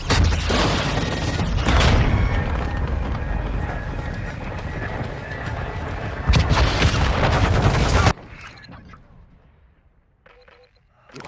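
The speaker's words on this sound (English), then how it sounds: "Request an airstrike at this location." An airstrike in the video game Warzone Mobile brings dense, roaring rumbling explosions with rapid gunfire and aircraft noise for about eight seconds, then cuts to quieter clicks and mechanical sounds.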